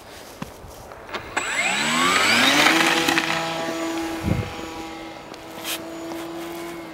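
An RC FT Baby Blender plane's electric motor and propeller whine up sharply in pitch at takeoff, then hold a steady buzzing drone that fades slightly as it climbs away.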